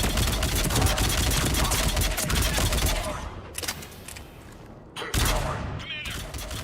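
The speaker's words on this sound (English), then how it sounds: "we're getting a lot of mortar fire" Mortar fire in the Mass Effect 3 battle with Cerberus forces: dense, loud barrages of blasts and crackling gunfire that fill the first half, fall to a lull, then erupt again in another heavy burst.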